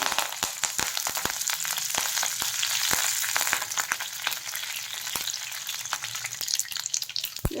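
Curry leaves crackle and sizzle in hot oil in a pan just after mustard seeds splutter, for a Kerala mushroom and drumstick theeyal; steady close frying hiss is broken by many sharp pops throughout.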